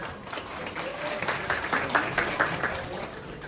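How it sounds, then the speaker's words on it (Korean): Wedding guests in a hall applaud before a congratulatory song, a moderate continuous patter of clapping with a faint voice or two mixed in. "여러분 큰 박수로 청해 듣겠습니다"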